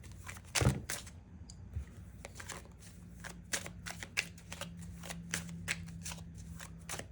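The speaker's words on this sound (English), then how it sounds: "Let's go ahead and shuffle." A tarot deck is shuffled by hand indoors, giving a run of crisp, close riffles and soft card slaps in an uneven rhythm over several seconds, with no talking.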